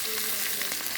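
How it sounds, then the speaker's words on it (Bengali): Fish pieces frying in hot oil in a pan for a fish curry with pointed gourd, a brief, even, crackling sizzle heard up close. "মাছগুলো আমি একটু ভেজে নিচ্ছি।"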